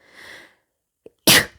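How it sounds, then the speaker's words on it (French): A single sharp, loud sneeze near the microphone, preceded by a soft breathy intake and a short silence. "Pardon, je vais éternuer, je suis désolée."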